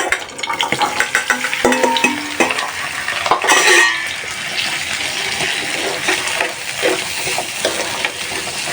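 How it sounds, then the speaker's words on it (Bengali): Chickpeas frying and being stirred in hot oil in a wok for a mashed chickpea bharta, a steady close sizzle with scraping and clattering stir strokes throughout, louder bursts near the middle. "কড়াইয়ে তেল দিয়ে দিলাম। তো বুটটা বোনা করে নিই"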